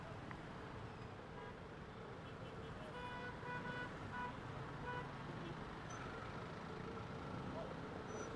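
Jammed road traffic with cars and motorbikes idling and creeping along, a continuous low rumble broken by a few short horn toots, heard at a distance from a Yamaha NMAX scooter.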